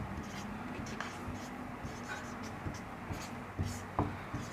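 Chalk scratching and tapping on a classroom board during a Class 6 science lesson, a steady series of short strokes close by with a louder tap near the end, over a continuous low hum.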